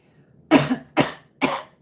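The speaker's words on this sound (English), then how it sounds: "and cough with a purpose." Three sharp, forceful coughs in quick succession, close and loud, each a short burst followed by brief silence.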